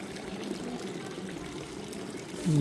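Mineral spring water from the iron-rich, salty, warm Rusalka spring at Karlovy Vary pours steadily into a small drinking cup, a continuous close trickle that swells slightly louder at the end.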